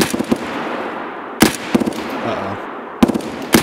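Sharp gunshots in the Escape from Tarkov video game ring out in three separated bursts of a few rapid cracks each, over steady ambient game noise, with a brief spoken exclamation.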